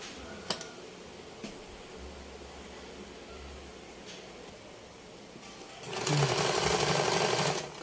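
A Singer zigzag sewing machine stitches, a low steady hum with a couple of faint clicks, then the motor surges into a loud, continuous whirring run for the last couple of seconds.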